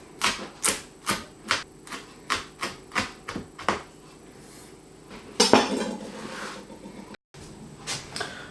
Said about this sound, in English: Now I'll just finely chop the sage leaves.